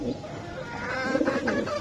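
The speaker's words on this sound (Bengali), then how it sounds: "দেখেন কবুতর" Pigeons at a pigeon farm coo softly in short, overlapping rolls amid faint background noise, fairly close, with no one speaking.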